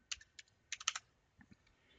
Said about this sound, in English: by typing in the letter T